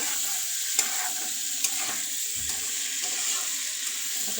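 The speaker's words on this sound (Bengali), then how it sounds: "খুব সুন্দর করে কষা করে নিব, একদম ভাজা ভাজা করে" Chicken frying in oil for a chicken and potato curry gives a continuous, even sizzle close up, with a few soft taps of stirring and no talk.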